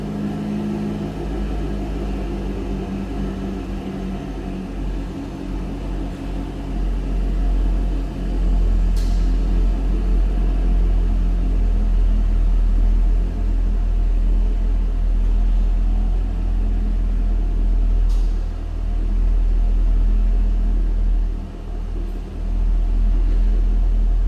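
The power soft top of a 2010 Chevrolet Corvette Grand Sport convertible lowers with a steady low motor hum and rumble, plus a couple of brief clicks, with no one speaking.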